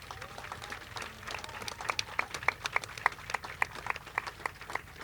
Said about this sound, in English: Please give everybody on the stage a grand round of applause.